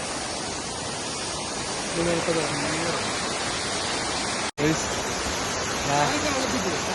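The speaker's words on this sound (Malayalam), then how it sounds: "വെള്ളച്ചാട്ടം, അടിപൊളി വെള്ളച്ചാട്ടം." A waterfall reached after a long walk roars as a constant broadband rush, loud and close, with brief voices rising over it partway through.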